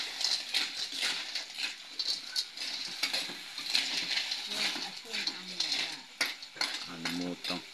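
Food is stirred in a cooking pan over a sizzling heat, with irregular scraping and clinking strokes and a steady hiss, close and faint, with someone speaking toward the end.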